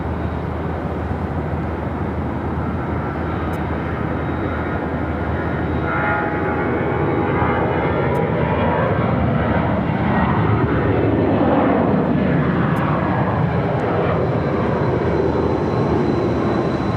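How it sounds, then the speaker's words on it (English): A Legion Airbus A320 rolls for takeoff on runway 7 left at Phoenix Sky Harbor, its jet engines a loud, steady, broad roar that swells slightly and holds for the whole stretch. "Got that Legion A320 now rolling down at 7 left"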